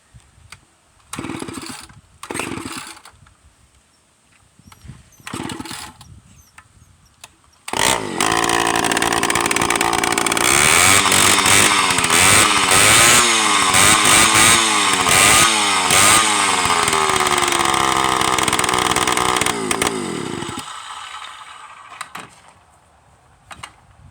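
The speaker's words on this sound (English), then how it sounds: "I've got one '64 model XL12, and it's this circle saw right here." A 1964 Homelite XL12 chainsaw, 54 cc and loud, gives a few short start attempts, then fires and runs close for about twelve seconds, revving up and down before cutting off.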